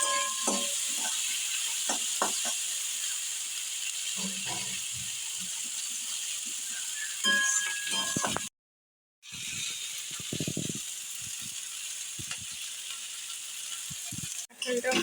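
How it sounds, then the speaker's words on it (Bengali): Jackfruit and prawns fry in a pan with a steady hiss and sizzle, broken by occasional stirring clicks and scrapes, close up. "কাঁঠালটাও ফ্রাই হয়ে গেছে"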